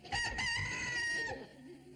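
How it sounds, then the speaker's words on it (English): A rooster gives one loud, clear crow that lasts just over a second and then fades, followed by quiet. "Go ahead and crow. I know it's your job."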